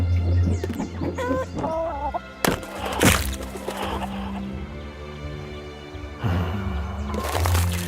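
Chicken clucking in a video game: a quick run of clucks in the first seconds, then scattered louder squawk-like bursts over a steady low background hum.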